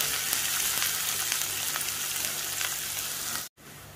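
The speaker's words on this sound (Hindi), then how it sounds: "प्याज के सॉफ्ट होने तक हम भून लेंगे।" Chopped green chillies and onion fry in a pan with a steady, close sizzle and faint stirring, then cut off abruptly near the end before a quieter sizzle returns.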